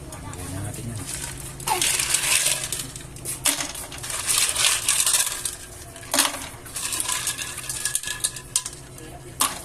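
Fresh halaan clams tumble into a cooking pot with ginger, giving clattering shell-on-metal bursts in several clusters that scrape and rattle against the pot, fairly close and loud.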